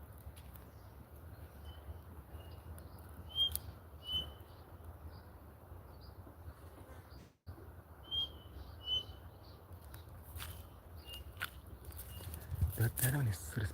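Several sharp, high bird calls ring out at intervals over steady outdoor ambience, moderately distant, with a brief gap and louder rustling near the end.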